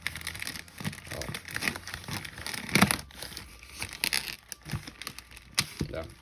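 Scissors cut and tear through the plastic and paper packaging of a parcel from Japan, with repeated close crinkles, rustles and sharp rips in an irregular rhythm and a voice heard at times.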